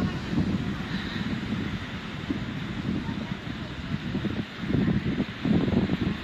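Steady wind blows across the microphone at Paturia sea beach on a hot day, with low rumbling gusts and a faint wash of surf behind it.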